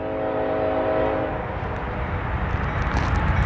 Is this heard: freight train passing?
yes